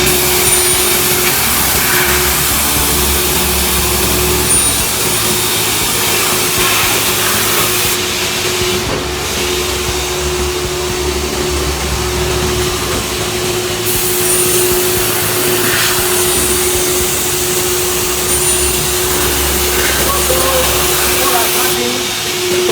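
A cutting machine slices paper-wrapped MDF molding for a small picture frame, giving a loud, steady, roaring whine that runs unbroken for the whole stretch, close and dominant.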